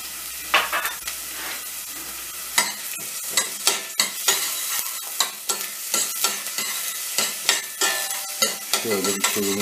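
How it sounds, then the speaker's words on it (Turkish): Chopped onions sizzle and fry in a small amount of hot oil for Urfa-style bulgur pilaf, stirred with repeated sharp scraping clicks over a steady crackle, close up. "Hemen arkasından doğradığımız soğanları atıyorum."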